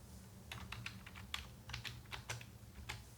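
Computer keyboard keys tapped in irregular bursts while coding an HTML and CSS website, close and moderately quiet, with a low steady hum beneath and no talking.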